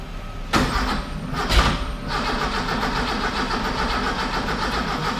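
A car engine cranks with a fast rhythmic churning after its ignition timing has been retarded a few degrees, starting abruptly, loud and close, with a brief louder surge near the start and steady cranking after, no catch.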